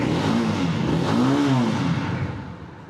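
A Superstar 200cc carburetor-based motorcycle engine starts and revs, a close, loud rising and falling drone that climbs in pitch, peaks and then eases off toward idle.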